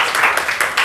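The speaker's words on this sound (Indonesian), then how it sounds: "Tepuk tangan untuk kelompok 2." Short burst of clapping from a classroom group after a group presentation, several hands patting in uneven rhythm, close and moderately loud.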